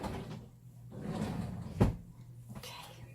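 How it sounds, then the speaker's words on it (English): A kitchen drawer is pulled open once, with a short, close wooden knock near the middle of a quiet indoor stretch. "Let me get in this drawer and get a towel, kitchen towel."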